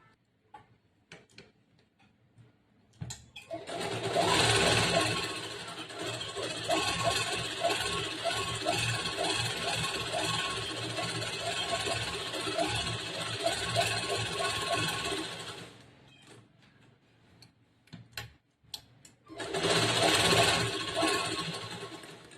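A sewing machine stitches blouse lining and main cloth together, a rapid even ticking run that lasts about twelve seconds, pauses, then starts again for a short burst.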